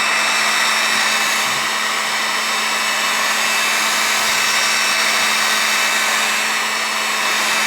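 A heat gun warms tinted window film on an Audi, giving a steady, close, continuous blowing whir that holds at an even level throughout with no talking.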